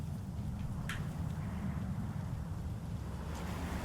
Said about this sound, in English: Love that wind sound design.